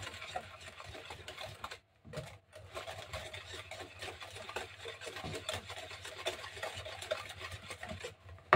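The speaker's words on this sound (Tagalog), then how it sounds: "Mix natin." A spoon stirring a cooking mixture of oil and ingredients in a pot, giving a steady rhythmic scraping and rubbing that runs almost continuously with one brief pause, fairly close and quiet, with no talk.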